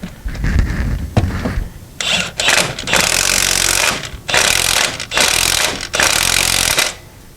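An impact power tool drives in a timing belt bolt on a 2008 Hyundai Santa Fe, firing in several loud, rattling hammering bursts with short pauses between them, close up with no talking.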